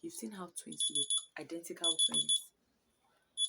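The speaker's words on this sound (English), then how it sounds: "Sorry, that was my alarm." A high electronic alarm beeps in short repeated bursts while a person keeps talking, then sounds again briefly after a pause.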